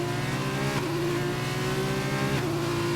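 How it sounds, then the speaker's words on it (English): A Formula 1 race car in the F1 2021 racing game, heard on board at the French round: a loud, steady high-revving engine drone with a brief gear-shift dip, with no talking over it. "I like jumping on board with QWERTY because he's got engine sound."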